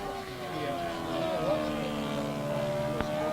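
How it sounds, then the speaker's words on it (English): A radio control model airplane's propeller revving up at a club fun fly, a sustained high-pitched whine with wavering harmonics and a brief pitch dip, heard from nearby over faint background voices. "that sound is from the prop revving up to almost supersonic."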